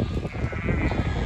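Sheep bleat in a brief, close chorus of overlapping calls while the flock is moved up a hill.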